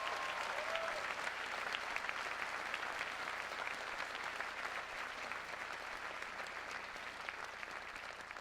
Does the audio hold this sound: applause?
yes